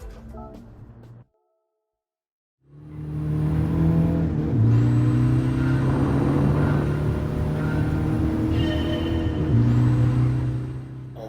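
A Mazda Demio XD Touring in Gran Turismo Sport drones after a short pause, its engine note rising steadily under load with two distinct gear changes that drop the pitch before it climbs again.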